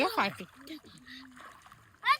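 A child jumps into a resort swimming pool in Udaipur, with a quick splash at the start and another near the end, while people talk and a voice is heard in between.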